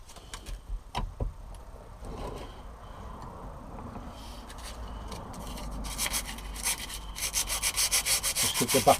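The back of a piece of wood for a Dutch barge build is sanded by hand with sandpaper; soft scattered scrapes and knocks lead into faster, louder rhythmic rubbing strokes near the end.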